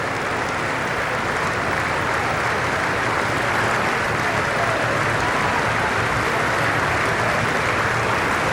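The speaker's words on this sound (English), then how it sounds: "we'll hear a lot of applause breaks tonight" Steady, dense applause from a large audience in the House chamber during a State of the Union address, sustained and even throughout with no voices over it.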